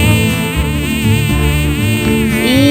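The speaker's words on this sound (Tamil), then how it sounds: "கொசு" A mosquito makes a close, loud, steady whine with a wavering buzz that runs without a break for a few seconds.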